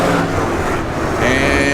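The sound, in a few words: sprint car engine revving as the race restarts at Irwindale Speedway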